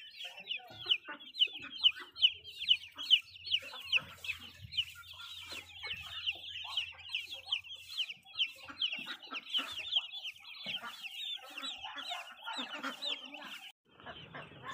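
Farm chickens cluck steadily in a busy chorus of short, bright calls, with a few louder nearby squawks, while ducks are kept close by.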